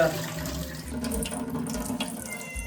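Tap water runs steadily into a basin while tapioca is being washed, a close continuous splashing gush with small shifts as the roots move in the water, with no talking.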